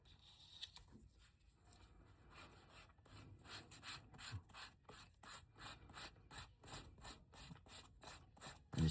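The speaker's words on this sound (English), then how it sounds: "And you take your 600 sandpaper." Fine 600-grit sandpaper rubbed by hand along the edge of a small brown and green leather six-pocket wallet, giving a quiet, rapid series of rhythmic scratchy strokes close up with no talking.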